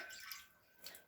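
Water runs through a siphon hose into a pot at an off-grid cabin's shower setup, a soft steady hiss and trickle, faint and close, with no talking.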